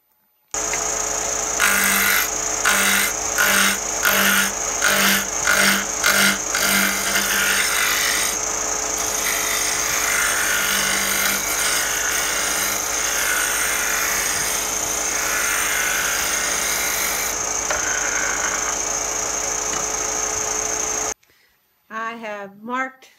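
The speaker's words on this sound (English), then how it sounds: "Next, I'll be turning an arc-type twisted spindle." A wooden spindle with an arc-type twist being cut on a lathe, a close grinding rasp that runs steadily with pulsing strokes early on, then stops abruptly, followed by a brief spoken voice.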